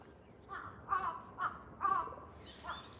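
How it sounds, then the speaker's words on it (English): Several crows caw in a Tokyo cemetery park, with harsh calls in separate bursts over about three seconds at moderate distance against steady outdoor background noise. "There's a lot of crows that hang out in this park."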